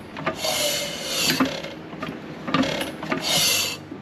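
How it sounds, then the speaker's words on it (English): A 1933 John Deere Model E 1.5 HP hit and miss engine is hand-cranked, with mechanical ratcheting and rubbing sounds rising and falling in slow, uneven turns close by. "put some oil right in here on the back of the piston, crank it a few times"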